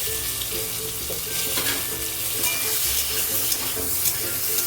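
Pointed gourd (parwal) frying with spices in a pan makes a loud, continuous close-up sizzle, with scraping stirs of the spatula running through it and no talking.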